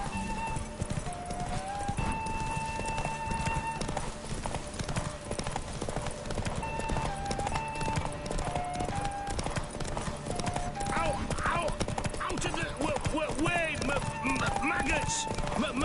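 Roach, a horse in The Witcher 3, gallops with rapid rhythmic hoofbeats and an occasional whinny, steady and close over game music.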